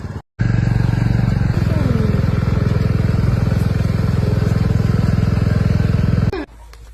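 A motorbike engine runs loud and close at a steady idle-like drone for about six seconds, starting and stopping abruptly, on a ride into an empty forest.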